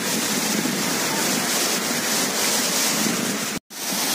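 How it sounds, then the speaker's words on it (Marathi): Birthi Falls at Munsiyari, Uttarakhand, a waterfall roaring with a steady, dense broadband rush that stays loud and unbroken, cut by one brief dropout near the end. "खरंच भारी धबधबा आहे. वॉटरफॉल मस्त आहे."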